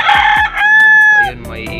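A rooster crows loudly and close, one long drawn-out cock-a-doodle-doo with clucking before and after.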